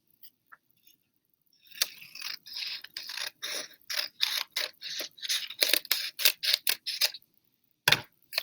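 Scissors snip through paper while trimming the lower part of a folded origami crane sheet, a quick run of close, crisp cuts in steady rhythm with a few pauses, no talking over them.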